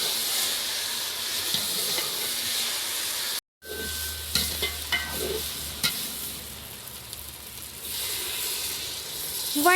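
Mooli frying in oil in a pan on a mud stove, a steady close sizzle and hiss that cuts out for a moment, then returns with light stirring scrapes.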